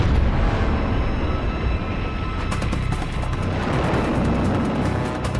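A torpedo detonating aboard the burning destroyer USS Smith during wartime battle, a loud, sustained roaring blast with rumbling fire and debris noise continuing throughout.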